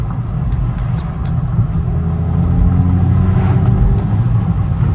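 A VW Mk5 GTI accelerating, heard from inside the cabin: a steady, loud engine drone that builds slightly as it pulls, with faint turbo and intake whoosh blended in. No talking.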